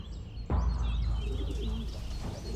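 Urban pigeons near a city hospital where peregrine falcons nest, giving a few soft cooing and fluttering calls over steady ambient city noise, fairly close and moderately loud.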